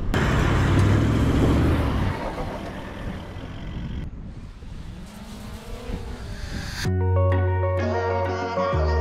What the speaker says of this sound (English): This is the first time the Land Strider is ever gonna be in four-wheel drive, ever at the beach.